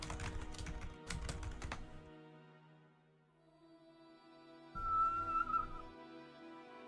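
Keys on a computer keyboard clatter in quick bursts at the start, close and fairly loud, then fade into quiet room tone; a brief whistle-like tone and rustle appear near the end.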